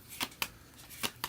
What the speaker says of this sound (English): I don't shuffle my cards this way